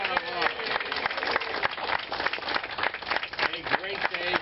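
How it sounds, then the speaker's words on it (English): Crowd applauds and claps steadily at the opening of the new Brooklyn Bridge Park, with cheers and voices mixed into the sustained clapping. "Yes, big round of applause."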